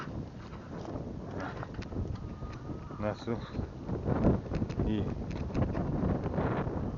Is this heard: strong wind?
yes